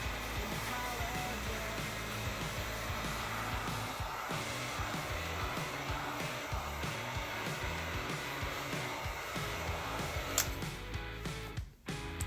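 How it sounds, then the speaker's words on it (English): A heat gun blows hot air steadily over a YZ450F motocross bike part to evaporate brake cleaner, a continuous close whooshing drone that runs almost unbroken, dipping briefly near the end. "I usually hit it with the heat gun just to make sure all the brake cleaner is evaporating"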